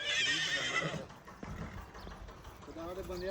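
A Nukra breeder horse gives a loud whinny up close, followed by clopping hooves and another rising neigh, with people talking nearby.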